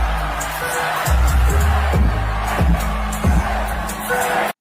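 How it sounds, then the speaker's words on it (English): Fans in a crowd at a comic convention chanting, a loud, rhythmic group chant with repeated deep pulses about once a second over a dense roar of crowd noise. "Those are all the ASJ fans in the crowd chanting"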